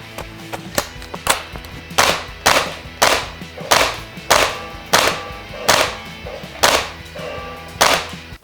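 A suppressed VFC UMP9 airsoft gun fires about a dozen sharp, evenly paced shots over several seconds, each a crisp snap with a short tail, close and loud with no talking.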